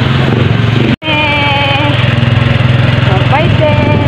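A motorcycle idles outdoors in a Philippine neighbourhood during a fiesta, a loud, close, steady throbbing putter broken by a brief cut near the start, with voices talking over it.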